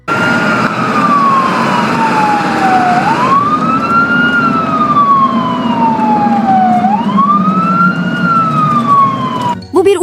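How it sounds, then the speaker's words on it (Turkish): A loud, close siren wails in long rising and falling sweeps, repeating steadily without any talking. "Ambulans işte böyle ses çıkartır"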